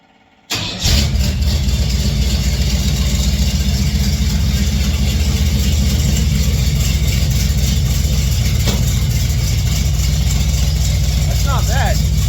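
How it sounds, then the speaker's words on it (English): 1959 GMC pickup with a new 3-inch exhaust and single-chamber mufflers cranks and catches, then settles into a steady, loud, close rumbling idle with a slight chop, a voice speaking briefly near the end. "Still has a nice little chop, nice little rumble."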